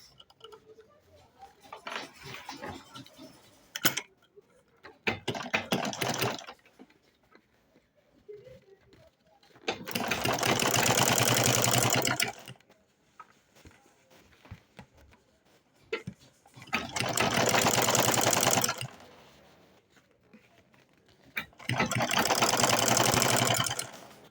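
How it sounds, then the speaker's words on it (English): A sewing machine top stitching a lined handbag, running in three loud sustained bursts of a few seconds each, separated by quieter gaps with handling clicks and faint rustling. "I'm now going to top stitch like this"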